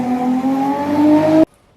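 A Volkswagen Golf Mark III VR6 engine idles and revs briefly up close, a steady strong tone that rises slightly before cutting off abruptly.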